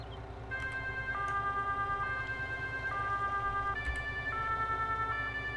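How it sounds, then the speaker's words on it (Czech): Fire truck sirens wail in Farming Simulator 22, a two-tone alternating pattern switching pitch about every second, loud and steady over a low engine rumble with no talking. "Máme dvě sirény."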